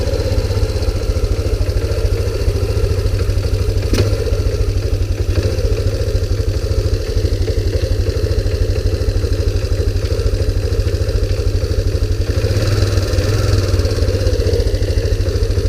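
A 2001 Kawasaki Bayou 300 ATV engine runs steadily throughout, a close, loud low-pitched idle with a constant clattering pulse and no talking.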